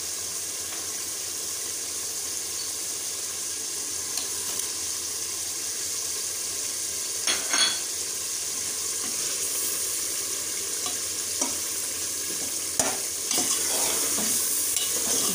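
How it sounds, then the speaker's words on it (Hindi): Masala spices for a beef Sindhi biryani fry with a steady bright sizzle in a pot, a spoon scraping and stirring through them, occasional clinks rising over the constant hiss. "ये हमारा मसाला जो है वो अब भून रहा है"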